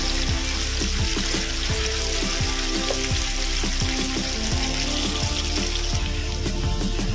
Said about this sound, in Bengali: আলুটা একটু কয়েক সেকেন্ড ভেজে নেব।